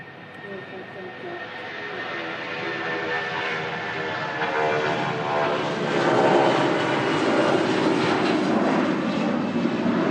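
A Jet2 passenger jet takes off at Manchester Airport during a major power outage, its engines roaring and building steadily in loudness through the roll, with a speaking voice faintly underneath.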